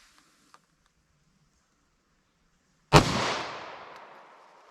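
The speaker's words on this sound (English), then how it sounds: "Let's see what kind of velocity and accuracy we get out of this 5-inch pistol." A single sharp report from a 9mm pistol with a 5-inch barrel firing a Winchester Silvertip round, a loud close bang with a ringing decay after near silence.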